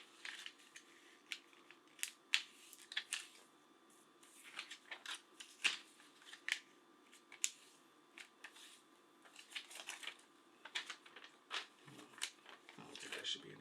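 A Grandknife Chinese chef knife slices a sheet of standing paper in a cut test, giving quiet, close, crisp slicing strokes and rustles in an irregular run, with light paper handling noise between.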